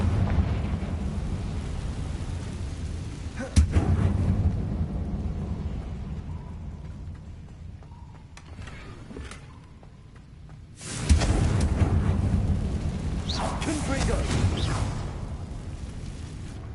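Confringo blasting spell in Hogwarts Legacy, two sharp bursts followed by sustained roaring, crackling rumble, loud, with a quieter stretch between them and no talk.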